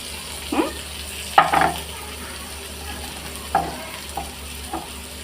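Vegetables tossed into browned fried onions in a pan, a soft steady sizzle broken by several distinct scrapes and knocks of a spoon stirring, close by and without speech.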